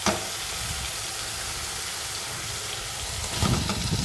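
Ground spice paste frying in a pan for shukto makes a loud, dense sizzle that carries on without a break, then grows rougher near the end as it is stirred.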